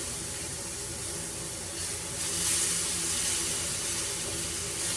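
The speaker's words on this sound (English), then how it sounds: "go ahead and pour some of my liquid in there" Tomato liquid for a gravy is poured into a hot pan, making a continuous sizzling hiss that swells partway through and then holds steady.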